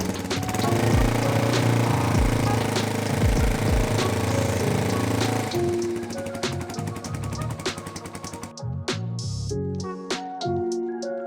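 A Yamaha XT225 motorcycle engine runs at a raised idle, a loud, steady, close chugging drone that shifts in tone partway through, heard alone without talking.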